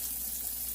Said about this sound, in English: I'm frying this fish skin side down.